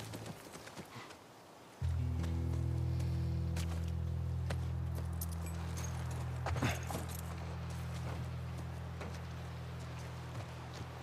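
Horse hooves clip-clop at a steady walking pace in The Last of Us Part I, near a ranch, over a low, constant droning hum, with occasional jangling.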